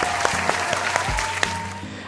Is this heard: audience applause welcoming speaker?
yes